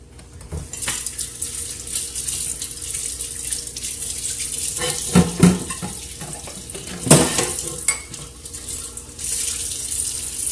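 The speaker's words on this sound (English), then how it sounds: "So I'm going to rinse these green onions, cut a couple of them up" Tap water runs steadily into a kitchen sink while green onions are rinsed under it, with a few clatters and knocks of handling partway through; no voices.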